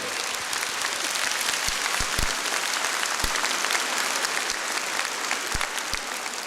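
A concert audience breaks into loud, sustained applause, dense clapping from a large crowd with a few sharper individual claps standing out, lasting several seconds without speech.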